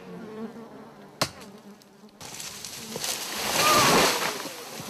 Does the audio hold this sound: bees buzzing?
yes